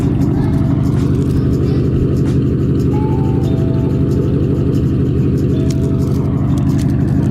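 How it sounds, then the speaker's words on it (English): A car fitted with a loud custom exhaust idles close by, its deep, steady rumble filling the whole clip at constant loudness, with no voices over it. "this is what it sounds like when it's idling. It's ridiculous."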